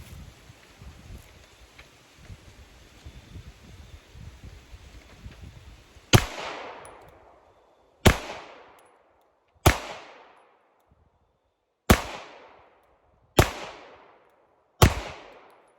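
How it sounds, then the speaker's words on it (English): A pistol fitted with a Holosun 507C optic fires six sharp, loud shots spaced a second or two apart, each with a quick decaying echo, after a stretch of low outdoor rumble. "I knew I didn't have many rounds left, so I just went ahead and fired them off."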